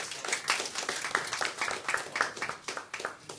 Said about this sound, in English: If you could give him a round of applause, please.